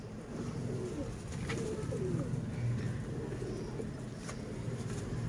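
Young flying pigeons coo softly in a loft, with low repeated warbling calls set against a steady background hum and occasional faint clatter; no one speaks.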